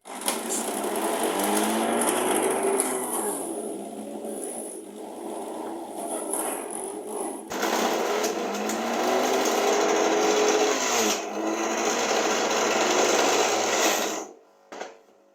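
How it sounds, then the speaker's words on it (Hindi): An electric grinder whirring steadily as it extracts ginger juice, a loud close motor drone that shifts pitch when it restarts midway and then cuts off near the end. "अब अदरक का रस निकालते हैं और इसके बाद फिर लहसुन का। तो अदरक का शुरू करते हैं, इसी ग्राइंडर में शुरू करते हैं।"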